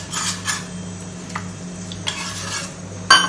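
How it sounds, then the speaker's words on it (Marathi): Jeera rice cooks in a pot over a low steady hum, with occasional metal clinks and scraping from a spoon and a soft sizzle, ending in a sharper clatter. "जिरा राईस बनतोय म्हणून एवढा आवाज येतो."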